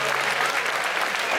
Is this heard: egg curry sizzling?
no